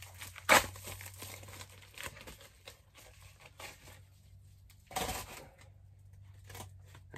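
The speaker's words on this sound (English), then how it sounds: "They're very hard to get out of the mailer envelope." An item worked out of a tight mailer envelope, with sharp crinkling and tearing bursts of paper near the mic, separated by softer rustling and handling between two louder pulls.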